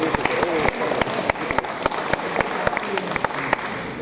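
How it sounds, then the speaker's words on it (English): Audience at an award ceremony clapping, a mix of many hands with sharp individual claps standing out in an irregular rhythm, fairly close. "Right, and applause for Rachel Matthews"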